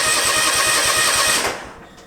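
A zero turn mower engine cranks with a rapid, rhythmic chugging from the starter for over a second, loud and close, then stops without catching.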